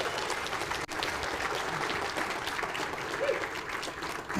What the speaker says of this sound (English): let's give a round of applause for the Mounted Patrol for saving the day